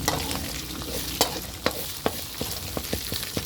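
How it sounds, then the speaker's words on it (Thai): Red curry paste stir-fried in a pan for a spicy pork curry, with a steady sizzle under sharp, irregular scrapes and clacks from a utensil working the paste, about eight distinct strikes spread over a few seconds. "ผัดพริกแกงให้หอม พริกแกงเผ็ดนา"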